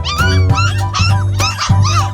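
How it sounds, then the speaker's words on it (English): A dog on a farm barks four times in quick, high-pitched yips, close and loud, with whiny tones between barks. "Who's barking?"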